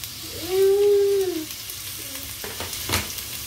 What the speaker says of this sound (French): je vais mettre à frire mes oignons